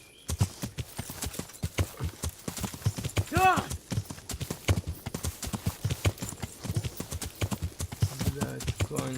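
Steady clip-clop of horse hooves in the medieval game Kingdom Come: Deliverance, a dense run of close, even hoofbeats that continues throughout, with a brief whinny partway through and a voice talking over it.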